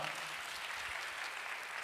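A congregation at a revival service claps in steady, dense applause, moderately distant and without clear speech.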